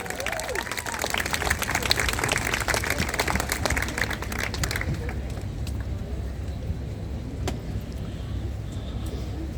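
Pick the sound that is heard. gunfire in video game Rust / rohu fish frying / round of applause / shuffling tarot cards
round of applause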